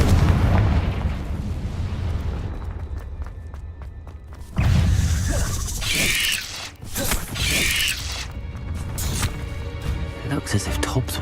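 A Confringo fire spell goes off in Hogwarts Legacy inside a cave, a sudden loud blast partway through followed by further bursts and crackling debris over game ambience, with a voice speaking.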